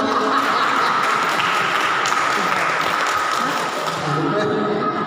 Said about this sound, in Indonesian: Pak Derla, jangan tanggung-tanggung, tepuk tangan aja.